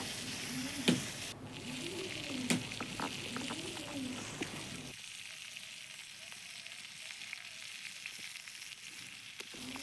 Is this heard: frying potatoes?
yes